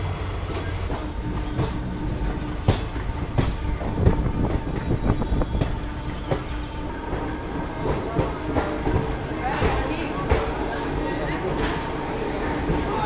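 An Indian link express train rolls slowly into Jaipur station with a steady rumble of wheels, clickety-clack from the rails, and occasional faint squeals, heard from inside a coach while voices talk underneath.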